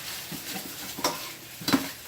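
Garlic sizzles in a pan while being cooked for chicken marsala, a steady close frying hiss broken by two sharp utensil clinks as it is tossed around.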